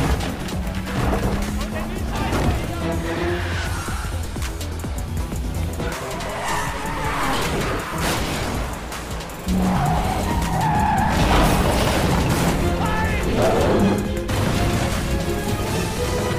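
Tires squeal and skid loudly as cars race in a chase scene from an Indian action film, engines roaring under repeated screeches, with a voice speaking over the action.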